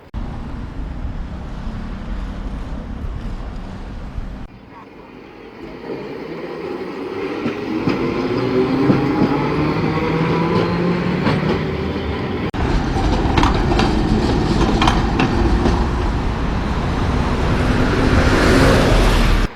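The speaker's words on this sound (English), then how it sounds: "that was the Nagasaki streetcar, which is right behind me right now" A Nagasaki streetcar rolls past close by, a steady rumbling rail run with wheel squeal and rising clatter that grows louder toward the end, no talking over it.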